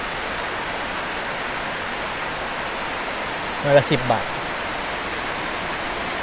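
Steady rain pours down as an even, unbroken hiss, with a voice cutting in briefly partway through.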